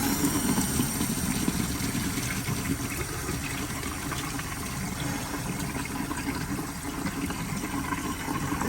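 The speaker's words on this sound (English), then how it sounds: "All right, let's see if the water's off." Water rushes steadily from a leaking PVC outdoor faucet, a constant close hiss and gush with no pauses and no talking.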